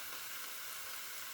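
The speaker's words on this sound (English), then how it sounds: "this is almost ready, so I'm going to add the bacon" Small bacon cubes frying in a pan, a steady, quiet, hissing sizzle with no talk over it.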